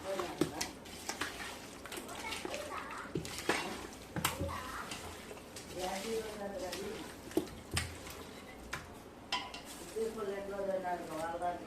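Meat pieces are stirred with biryani masala in a metal pot, making repeated faint scraping and clinking of a spoon against the pot. Someone talks throughout.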